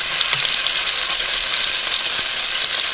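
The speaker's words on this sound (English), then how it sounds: "I'm going to fill up my pan and then let them fry" Chicken pieces for Jamaican brown stew chicken fry in a hot pan, giving a close, loud, continuous sizzle and crackle of hot oil throughout, with no voices.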